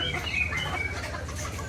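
A rooster clucks amid busy street noise in Malang, Indonesia, its calls mixed into a steady hum of traffic and surrounding bustle.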